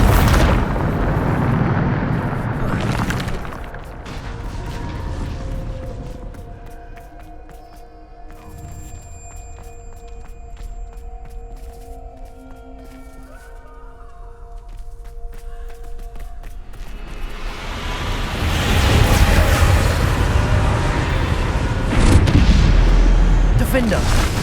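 Spell explosions from the Bombarda charm in the Hogwarts Legacy video game, loud booming blasts at the start and again near the end, with a quieter stretch of tonal game sounds in between.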